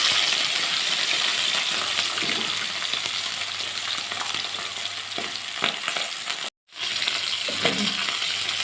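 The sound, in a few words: fish frying in oil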